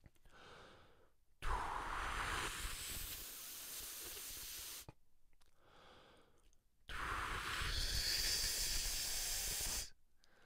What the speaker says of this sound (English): you'll be able to hear how the air speeds up